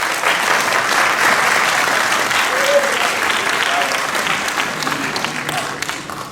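A crowd at a theology institute graduation applauds the class of 2025, with sustained, dense clapping that holds steady and fades slightly toward the end.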